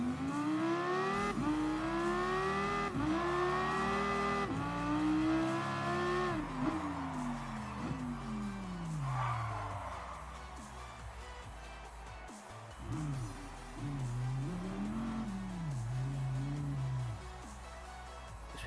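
A Dodge SRT Tomahawk S street-legal concept car drives in Gran Turismo Sport, its engine revving up through rising gear pulls with sharp shifts, then easing off and climbing again in shorter bursts.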